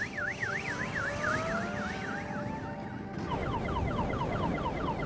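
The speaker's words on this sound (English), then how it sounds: "In Carlin's case, during testing, it was a car alarm." Car alarm used as the warning noise of an electric motorcycle, a loud warbling siren sweeping up and down rapidly in steady cycles, then switching to a faster pattern, over engine and road rumble.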